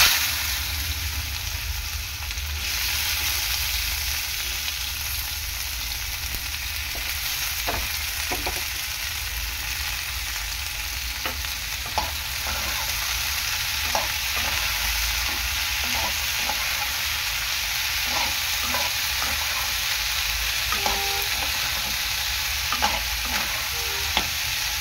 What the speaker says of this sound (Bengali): গ্যাসের ফ্লেমটা হাই করে উচ্ছেটাকে ভালো করে ভেজে নেব।